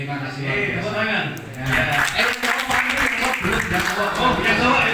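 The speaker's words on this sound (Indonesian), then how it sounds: "Tepuk tangan." Applause from a crowd at a junior high school in Sampang, Indonesia, during a police visit, steady and moderately loud throughout, with voices mixed in under the clapping.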